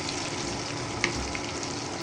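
Onions and stuffed pointed gourd (potol) fry in a pan with a steady, close hiss of oil, broken once by a brief clink partway through.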